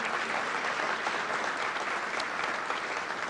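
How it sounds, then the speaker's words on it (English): Steady, dense applause from an audience honoring university faculty at a strategic plan announcement, a continuous wash of many hands clapping at moderate distance with no talk over it. "How about a round of applause for the Niagara University faculty in the room today?"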